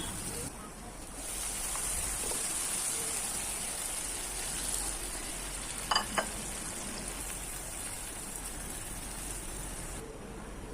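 Kachki fish curry sizzles steadily in a pan as it is stirred, a continuous crackling hiss with two brief louder scrapes or clinks near the middle.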